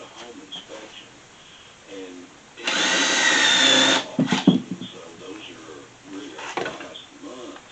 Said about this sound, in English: And I'll throw me a screw in there.